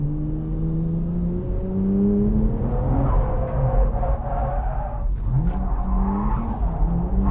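A car drifts through a hairpin, the driver kicking the clutch; the engine revs rise and fall in loud, close sweeps with a brief tire scrub midway, no talk.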